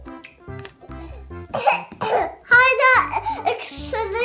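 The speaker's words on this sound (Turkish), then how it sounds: "Hala öksürüyor." A person voices rough, repeated coughs for a Barbie doll in pretend play, several short bursts close to the microphone. Childlike talk and a little laughter are mixed in.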